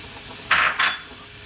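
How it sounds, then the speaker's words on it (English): Two quick metallic clinks as black tea is dropped into a pot while making masala chai, sharp and close, alone against a quiet kitchen background. "I'm going to drop in our black tea now"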